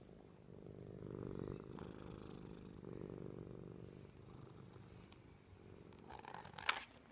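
A cat purrs close up in a steady low rumble with rhythmic breathing swells, then a brief sharp click or rustle near the end.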